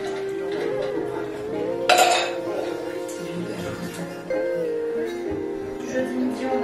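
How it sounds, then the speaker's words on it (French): Dishes being loaded into a household dishwasher: scattered clinks and clatters of plates and cutlery, including one sharper crash of crockery near the start, over steady background sound and a voice. "en même temps je vais remplir le lave-vaisselle"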